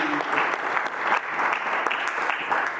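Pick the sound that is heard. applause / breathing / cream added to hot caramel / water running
applause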